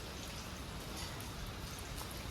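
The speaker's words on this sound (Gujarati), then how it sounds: "વરસાદ કેવો મસ્તી ના અને આમાં પલળવાની મજા જ કંઈ અલગ આવે" Steady rain falls in a dense, even hiss of drops with no pauses and no voices, spread across the whole short stretch.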